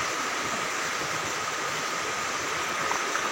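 The Pelus river rushes over rocks near Purwokerto, a loud, constant broadband roar of flowing water without pause or voices.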